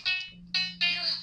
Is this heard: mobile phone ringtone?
yes